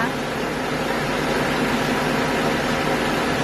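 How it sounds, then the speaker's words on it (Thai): The radiator cooling fan of a Mitsubishi Champ car whirs loudly and steadily close by, a broad constant rushing hum, while someone speaks over it. "ตอนนี้นะคะพัดลมหม้อน้ำก็ทำงานนะคะ"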